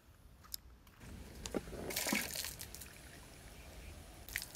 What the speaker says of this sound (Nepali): अब चोखिन्छु सफा पानीले